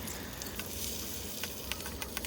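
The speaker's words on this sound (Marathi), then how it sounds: "मिरचे कांदे मस्त छान शिजू दिले" Chilies and onions fry in hot oil for a home-cooked cauliflower bhaji, giving a steady close sizzle with scattered sharp crackles and pops throughout, no voices.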